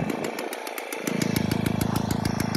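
Motoconfort N40T moped engine running steadily with a rapid buzzing two-stroke pulse, close and loud, settling to a steadier, fuller note partway through with no talking.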